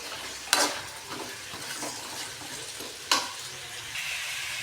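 Radish pieces fry in a pan for a radish sambar, a steady close sizzle broken by a couple of sharp spatula scrapes and clinks against the pan.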